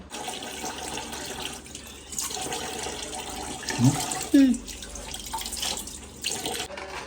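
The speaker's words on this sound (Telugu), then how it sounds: "సో ఇప్పుడు ఇది ఫుల్గా వాష్ చేసుకుంటాను నీట్గా శుభ్రంగా కడిగేసుకుందాము" A half-kilo of raw chicken is rinsed under a running kitchen tap: a steady stream of water splashes over the meat, with a couple of brief thumps and handling noises near the middle, and no talking.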